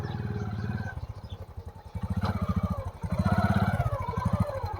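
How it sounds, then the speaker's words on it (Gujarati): A motorcycle engine runs steadily close by before setting off on a ride, a loud rhythmic putter with throttle swells that rise and fall, alone without talk. "અમારું બાઇક તૈયાર થઈ ગયું છે ને બસ હવે જવાનું છે"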